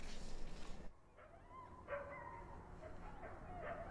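Siberian Husky sled dogs of a Minnesota dog sledding team bark and yip outdoors in winter, a few scattered moderately distant barks over a low background hum.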